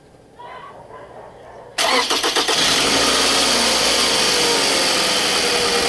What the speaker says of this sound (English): Go ahead and start the vehicle and turn the AC on.